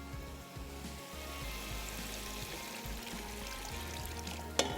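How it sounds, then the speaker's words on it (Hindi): Water pours into biryani masala frying in a pan, a steady sizzling pour under a constant low kitchen hum, close and moderately loud, ending with a brief sharp clink. "ये गया पानी।"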